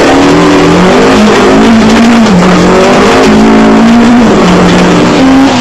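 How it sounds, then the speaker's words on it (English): Sasol VW Golf rally car in the 2001 Rally of South Africa, its engine note rising and falling through gear changes, loud and close from onboard with no talk. "Hubbig is nursing the Sasol VW Golf to the finish"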